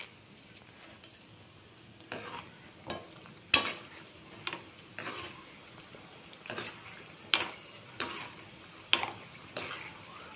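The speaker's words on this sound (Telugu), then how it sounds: "ఇప్పుడు మనం మినపొడియాలు ఉన్నాయి కదా, అవి దీంట్లో వేయించుకుందాం" Urad dal vadiyalu fried a few at a time in hot oil over a medium flame for kobbari pulusu, with quiet crackling under repeated sharp clinks and taps of a ladle against the pan, close and alone.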